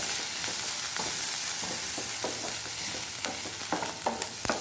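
Asafoetida and masala dosa filling frying in hot oil: a steady sizzle runs throughout, broken by repeated scraping stirs of a spatula in the pan, close and fairly loud, with no talk.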